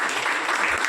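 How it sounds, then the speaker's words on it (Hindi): A seminar audience in Udaipur claps together in a steady, dense patter, the sound of many hands at once filling the room evenly for a brief moment without any voices. "ताली ऐसे बजा रहा जैसे सबको आ रहा हो"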